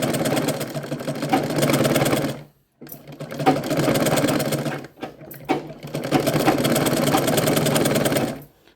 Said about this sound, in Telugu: మళ్ళీ రివర్స్ కుట్టుకుని వెళ్తాను ఇంకా భుజాల దాకా ఇటువైపు కూడా అతికిస్తాను ముందు భాగం